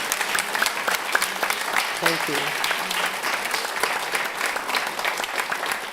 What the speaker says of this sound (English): now's when people really clap because it's time for our offering